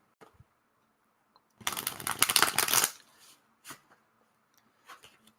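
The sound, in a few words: playing cards being shuffled and laid down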